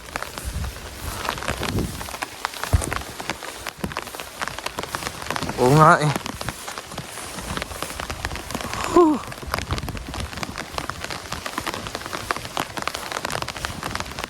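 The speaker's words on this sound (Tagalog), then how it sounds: "Malakas talagang ulan. Basa-basa tayo dito ngayon." Heavy rain pours steadily outdoors, a dense constant hiss with scattered drops, while people exchange a few brief words under the downpour.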